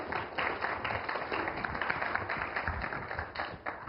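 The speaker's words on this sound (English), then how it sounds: "round of applause for the Sega Genesis" Audience applause for the Sega Genesis console at a programming talk, a steady dense wash of clapping filling the room for several seconds without a break, fairly loud and close.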